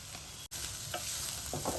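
Onions, chillies and mixed vegetables roasting in a pan over a high flame make a loud, steady sizzle with a few soft scraping stirs and a brief dropout near the start.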